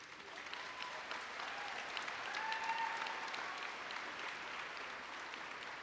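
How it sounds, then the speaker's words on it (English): Steady audience applause fills a middle school promotion ceremony as two student award winners are honored, a sustained wash of clapping from a crowd at moderate distance with a faint tonal whistle partway through. "we can give them a round of applause"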